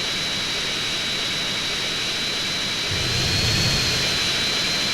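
A jet airliner's engine roars in GTA, a continuous loud whining drone with a steady high tone and a low rumble swelling slightly toward the end, with no talk.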